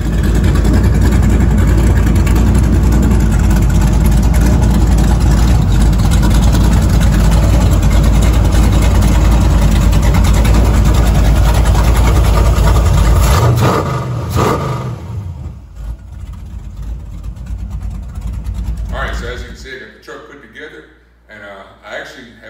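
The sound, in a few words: truck engine running after installing an MSD Pro-Billet distributor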